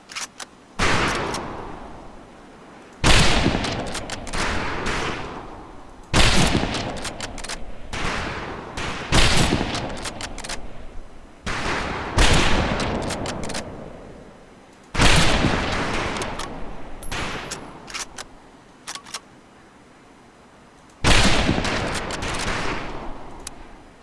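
Rifle volleys crack out on a Marine training range in the video game Medal of Honor Pacific Assault, about seven sharp bursts spaced a few seconds apart, each followed by a short ragged trail of shots.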